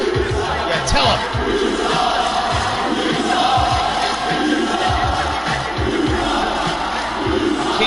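A dense live wrestling crowd in Seattle roars and cheers steadily throughout, a loud continuous wall of voices with chants and shouts rising and falling.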